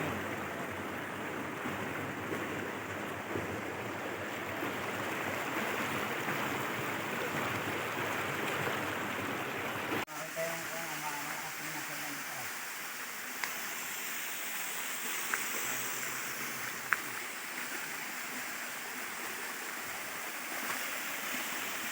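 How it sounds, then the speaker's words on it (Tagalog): A waterfall on a rural farm lot in Laguna gives a steady broadband rushing of falling water, constant and moderately loud throughout, with a faint voice now and then. "Ito yung falls na nasa itaas."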